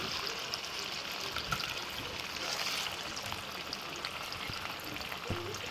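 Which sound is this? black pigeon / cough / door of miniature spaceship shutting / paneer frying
paneer frying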